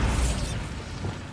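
A Bombarda spell explodes in Hogwarts Legacy, a loud, booming burst with a heavy low-end thud at the start that fades into a rumbling decay.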